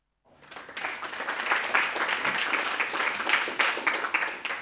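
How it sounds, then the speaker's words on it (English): An audience at a free and open-source software talk breaks into sustained applause welcoming a speaker, a dense wash of clapping that swells quickly and holds steady. "Please join me in welcoming him with a round of applause."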